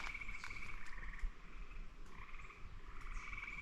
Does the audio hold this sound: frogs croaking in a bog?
yes